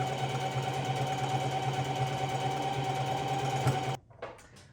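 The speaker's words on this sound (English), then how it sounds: "I'm just finishing up sewing on the lining to the lace." A sewing machine stitches lining onto purple eyelet lace with a steady, close mechanical whir that runs unbroken for about four seconds, then stops abruptly and leaves a few faint handling sounds.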